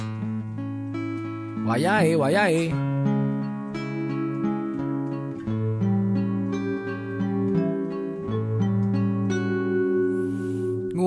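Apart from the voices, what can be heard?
keyboard sound from a Roland GR-20 guitar synthesizer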